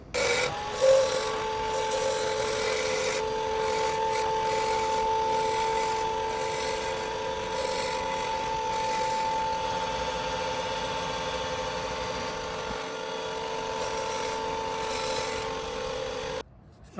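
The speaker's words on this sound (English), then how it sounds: "once you have these nicely shaped with the tool, with the gouge" A wooden pen blank spinning on a lathe as a gouge shapes it: a steady motor hum with a sustained tonal whine and a continuous rasping scrape from the cutting, close and unbroken throughout, with no talk.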